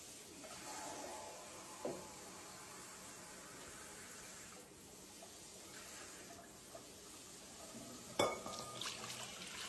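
Lukewarm water runs from a tap or is poured for homemade sandwich bread dough: a faint, steady watery hiss throughout, broken by a couple of soft clinks near the start and end.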